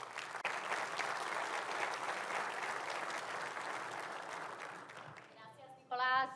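A crowd at an investment experts' panel applauds a presenter, a steady broad patter of many hands that fades gradually before a voice starts speaking at the end.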